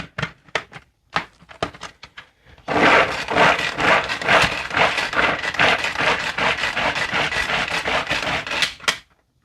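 A food processor blade chops two cups of carrots, starting with several short pulses and then running as a loud, continuous, clattering rattle for about six seconds before stopping.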